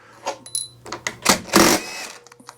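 DeWalt power tool used to remove parts from a junk lawn mower: several short, close whirring bursts with clicks and rattles of metal bits between them, with no speech.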